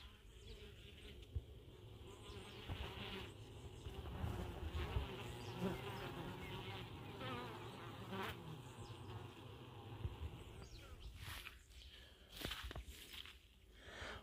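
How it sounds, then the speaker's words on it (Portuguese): Honeybees hum steadily inside a hive that needs a honey super added, a dense continuous drone throughout, fairly faint with occasional knocks and handling noises. "Vocês escutaram a zoada dela? É zoada de abelha que está precisando de milgueira."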